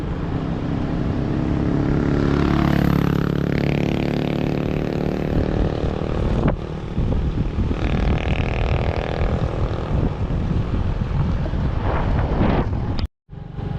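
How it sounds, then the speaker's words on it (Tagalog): Strong wind buffets the microphone with continuous loud roaring gusts, alongside a steady motor drone. "Lamig ng hangin!"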